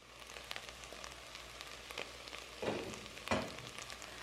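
Seasoned ground meat with black pepper cooks in a pan for a pastel filling, giving a faint, steady, close sizzle broken by two short louder crackling bursts.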